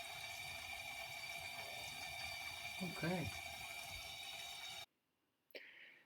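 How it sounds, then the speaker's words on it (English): Water draining down a bathroom sink drain in a master bath, a steady trickling gurgle with a brief rising swirl, then a sudden cut to near silence and a short faint sound at the end; a voice speaks briefly. "water going down here."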